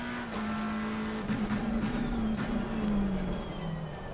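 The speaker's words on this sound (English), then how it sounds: "There's a car exiting pit lane." Race car in Assetto Corsa Competizione at the Hungaroring pulling out of the pit lane, a steady nasal engine drone that sags slightly in pitch, mid-distance, with no talk.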